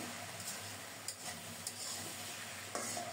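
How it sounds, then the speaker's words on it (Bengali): Mixed vegetables for shukto sautéing in a covered pan give a steady, quiet sizzle, broken by a few light clicks and scrapes as they are stirred; no voices. "এবার ঢেকে ঢেকে নেড়ে চেড়ে খুব সুন্দর মতো সবজিগুলো কষিয়ে নেব।"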